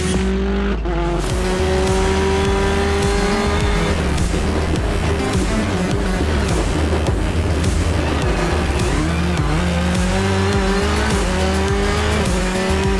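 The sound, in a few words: rally driver's car on a hot qualifying lap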